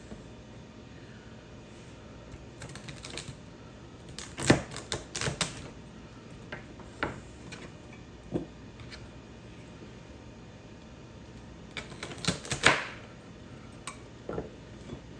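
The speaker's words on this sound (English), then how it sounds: "I have some celery to cut into sticks for dipping." A knife cuts organic celery into sticks on a board, giving sparse, crisp taps and crunches in small clusters, louder around the middle and near the end, with no talking.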